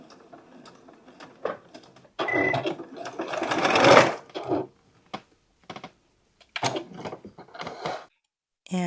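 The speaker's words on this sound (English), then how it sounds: "that's how you sew your pairs together" A sewing machine stitches pairs of half-square-triangle pieces for a rainbow quilt, running in short, uneven bursts with pauses between, including a quick back tack near the end.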